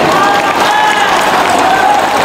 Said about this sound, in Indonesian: Kita beri tepuk tangan untuk relawan-relawan kita yang berjuang di sini.